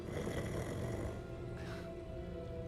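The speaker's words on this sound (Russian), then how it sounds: "Кто-то храпит." A creature snores inside a Gringotts vault in Hogwarts Legacy, a low, rumbling breath droning steadily and faintly.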